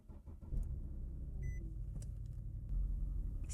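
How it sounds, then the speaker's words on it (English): An Infiniti G37 is started from inside the cabin, with a brief click and chime followed by a steady low engine rumble that settles into idle, close and fairly loud. "start the vehicle"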